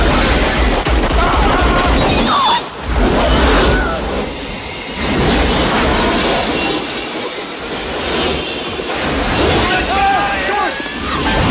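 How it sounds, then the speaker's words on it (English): Gunfire bursts through a chaotic action movie scene, loud and dense amid vehicle and engine noise, with shouting voices mixed in. "Shoot the bastard. Shoot him."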